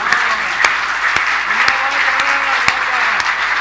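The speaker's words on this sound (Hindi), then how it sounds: "अरे एक बार जोरदार तालियां उठाइए।" An audience at a Hindi poetry gathering (kavi sammelan) breaks into steady, dense applause with sharp individual claps standing out, loud and close, while a voice speaks briefly over it.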